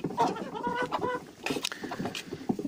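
Hens in a henhouse flock of about forty cluck and squawk up close, overlapping calls in quick irregular bursts.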